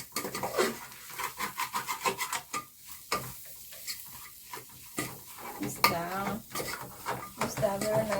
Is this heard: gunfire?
no